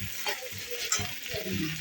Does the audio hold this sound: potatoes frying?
yes